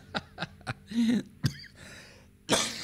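Several short coughs, then a rough throat-clearing hack and a final harsh burst of coughing, close by with no talking.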